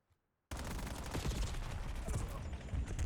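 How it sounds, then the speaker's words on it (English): Video-game gunfire in a competitive match, a pistol among the weapons, bursts in after a brief silence and keeps up as a dense, loud barrage of overlapping shots and rattling fire to the end. "Saint gets taken out by Capri with the pistol"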